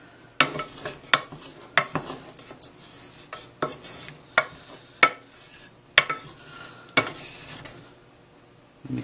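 Chocolate mixture being stirred in a pan in a home cooking setting, a spoon scraping and tapping the pan about a dozen times in a steady rhythm, close and fairly clear with no voices.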